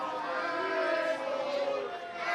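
A wrestling arena crowd roars and jeers in a steady, dense wash of many voices, loud and continuous without a break.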